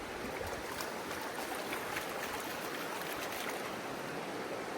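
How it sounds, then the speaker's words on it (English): Water sloshes and washes steadily in a gold pan during stratifying and washing out in a canyon, a dense, continuous rushing wash with no speech. "Gently wash it out. Bring it back in, stratify, tilt to the front, wash it out."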